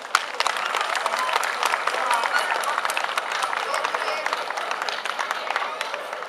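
An audience at a folk ensemble performance in Podravski Podgajci claps warmly, a dense, steady patter of many hands from a moderate distance with no voice over it.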